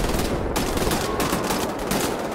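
Machine-gun fire in Wolfenstein: The New Order roars continuously, a loud, close, unbroken barrage of rapid automatic shots.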